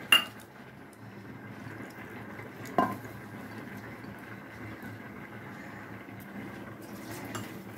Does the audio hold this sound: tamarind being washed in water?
yes